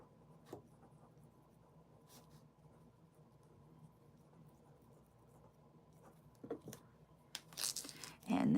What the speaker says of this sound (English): I'm going to write down on a separate piece of paper so that I make sure I get everybody